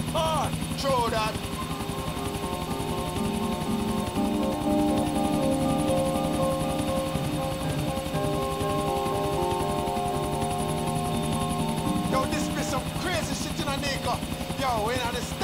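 A helicopter in a neon-city video game thrums steadily with loud, continuous rotor hum and engine drone, while electronic music tones play over it.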